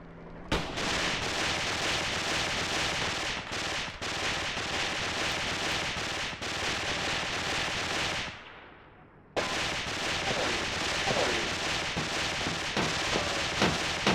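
An MG-42 machine gun in the war game Graviteam Tactics fires loud, dense, rapid bursts, with a short gap partway through before the firing resumes just as hard.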